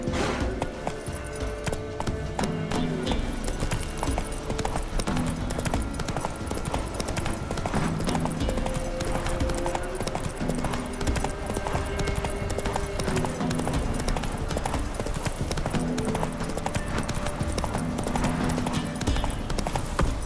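Galloping horse hooves in The Witcher 3 keep up a steady, loud clip-clop rhythm that runs through the whole stretch, layered over game ambience.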